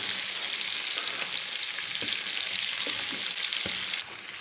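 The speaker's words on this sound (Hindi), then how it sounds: "अब हम इसमें अदरक लहसुन का पेस्ट डालेंगे और अदरक लहसुन के पेस्ट को 2 मिनट अच्छी तरह भूनेंगे।" Chicken frying with ginger garlic paste for a chicken karahi, a steady close sizzle with a few soft stirring knocks, continuous for about four seconds before easing slightly at the end.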